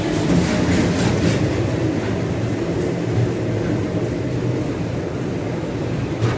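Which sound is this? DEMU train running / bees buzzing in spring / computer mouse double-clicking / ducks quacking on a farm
DEMU train running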